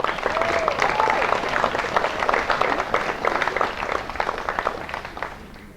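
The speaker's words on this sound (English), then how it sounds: "Let's give that a round of applause." An audience at a summer camp's 100-year anniversary claps together in sustained applause, dense and loud throughout, tapering slightly near the end.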